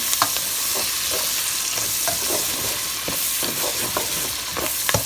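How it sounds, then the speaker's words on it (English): Onions sizzle in a hot frying pan, a steady close crackle broken by repeated scraping stirs of a utensil against the pan, with no voices present. "And I have some onions in here. Go ahead and fry this down."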